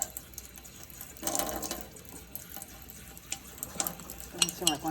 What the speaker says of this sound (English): stir until cookie mix is well blended